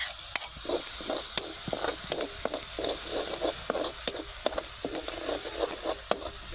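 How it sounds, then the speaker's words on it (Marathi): Crushed green chili and garlic frying in hot oil with cumin, a close, steady sizzle broken by frequent quick stirring scrapes and clicks of a spoon in the pan, no voices. "जी मिरची कुटून घेतली होती का ती टाकून द्यायची लसूण आणि मिरची"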